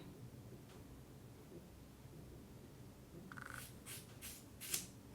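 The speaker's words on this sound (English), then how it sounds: "I'm gonna cut like this much off." Scissors snip through wig hair, a short run of crisp cuts at close range following a quiet stretch, with one sharper snip at the end.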